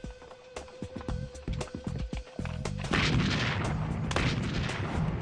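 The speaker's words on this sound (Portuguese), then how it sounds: "They fired repeatedly, some 30 or more rounds with this cannon" A cannon firing at a log fort in the Old West sounds as a few distant booms over a rumbling background, which swells into a dense, sustained roar of repeated blasts.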